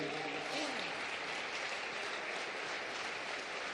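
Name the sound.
applause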